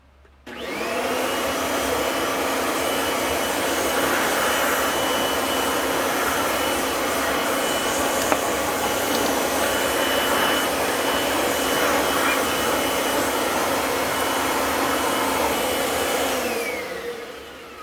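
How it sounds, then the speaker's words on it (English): A vacuum cleaner runs steadily for about sixteen seconds, cleaning leather debris from a Kenmore 117.95 sewing machine; a loud, close, constant whine that starts and stops abruptly, with no talking. "I'm going to vacuum that off."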